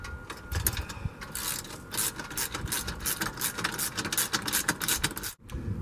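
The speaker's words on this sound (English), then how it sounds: "we'll just snug down on those pivot nuts, and then we'll tighten the pivot brackets" Metal wrenches, a pair of 10mm, turning and tightening pivot nuts on an ARB Simpson III rooftop tent fitted to a Land Rover LR3, giving close, busy ratcheting and clicking mechanical sounds in quick irregular bursts, with no talk.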